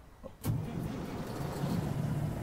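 Peterbilt 388 truck engine in American Truck Simulator starts up and settles into a steady, loud low rumble that holds for a couple of seconds with no talking.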